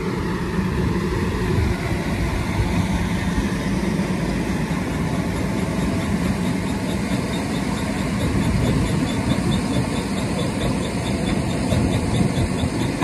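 A tractor engine ticks over at about 1,000 rpm driving a Herbst concrete crusher, giving a continuous loud rumbling drone with a steady mechanical chatter, close by and without talk.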